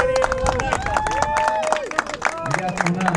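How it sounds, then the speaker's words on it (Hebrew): A crowd claps and cheers steadily for prize winners at an Israeli motorcycle racing championship round, dense applause with a voice speaking over a PA above it. "מגיע להם הרבה כפיים"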